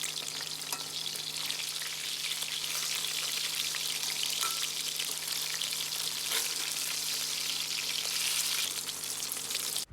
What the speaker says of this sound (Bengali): মাছগুলো দেওয়ার পর এগুলোকে উল্টে পাল্টে খুব ভালোভাবে ভেজে নেব।